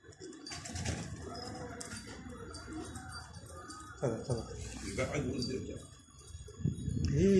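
Pigeons coo softly in the background, low rounded calls recurring a few times, partly masked by nearby people talking and some handling noises.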